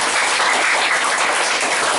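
Congregation applauding during a church sermon, a dense, steady wash of clapping filling the room at even loudness for the whole stretch, with no voice over it.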